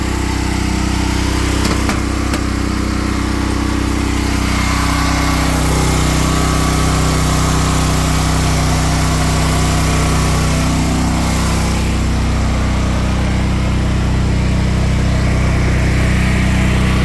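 A propane generator runs steadily inside a generator shed, a loud continuous engine drone with a low hum and no change in pace, alone without voices.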